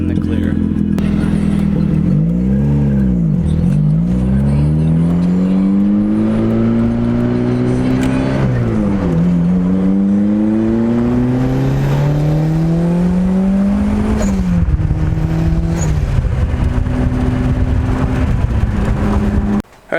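A Mazda Miata with a re-routed coolant system pulls hard on a test drive, its loud engine note climbing through the revs, dropping sharply at each gear change, and climbing again in repeated sweeps.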